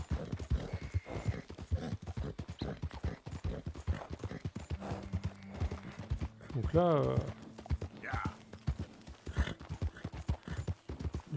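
Horse hooves clip-clop steadily in Red Dead Redemption 2, a stable setting, with a brief whinny partway through; someone talks over the hoofbeats throughout.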